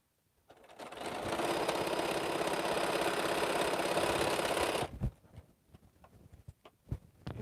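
A sewing machine stitching quilt border pieces runs in one steady, loud continuous whir for about four seconds, then stops, followed by soft handling clicks and fabric rustles.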